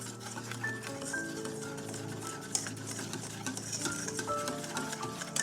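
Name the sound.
stirring flour into egg yolk milk mixture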